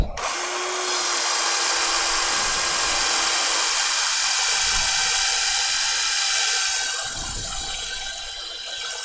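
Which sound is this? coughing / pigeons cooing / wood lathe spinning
wood lathe spinning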